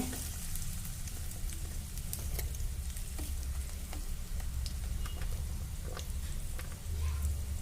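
Capsicum, onion and carrot fry together in a pan for veg noodles, giving a continuous crackling sizzle with light stirring, steady and moderately close, and no one speaking.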